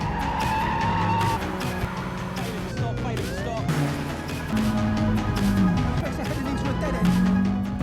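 Film car chase between robbers and police: tires squeal and skid repeatedly over revving engines, a sustained screech rising and falling, with a narrator's voice talking over it.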